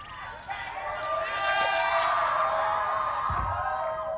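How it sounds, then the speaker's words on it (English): Crowd cheering and whooping at a Valorant esports match venue, a loud, sustained roar of many voices swelling and holding steady, with a broadcast voice speaking over it. "They're cheering!"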